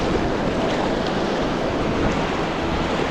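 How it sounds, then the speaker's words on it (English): Loud, dense surf and churning water surround the listener in the shallows while a surfboard is paddled out to catch Dungeness crab, with wind noise over the microphone and no speech. "The waves are a lot calmer here."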